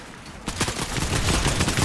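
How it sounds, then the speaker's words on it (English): An arm cannon fires in a multiplayer shooter video game, a dense burst of rapid, loud blasts that starts abruptly and keeps rattling without a break. "Oh, the arm cannon."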